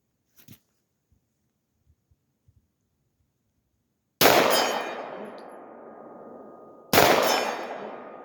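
Two loud metallic clangs of bullets from a Palmetto PX-9 hitting a steel silhouette target at 50 yards, several seconds apart, each ringing out and slowly fading, after a stretch of faint clicks and near silence.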